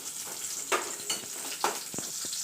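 Spices, ginger-garlic paste, curry leaves and onion frying in hot oil for a Kerala-style fish curry give a soft, steady sizzle with a few louder crackles and pops, and no talk.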